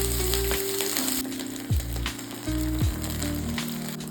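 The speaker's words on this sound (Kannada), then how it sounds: "ಇದಕ್ಕೆ ಹಸಿಮೆಣಸಿನ್ಕಾಯಿ ಹಾಕಿ ಚೆನ್ನಾಗಿ ಫ್ರೈ ಮಾಡಿ." Green chilies frying in oil in a pan make a strong, close sizzle, broken by a couple of sharp scraping strokes of a utensil against the pan, with nobody speaking.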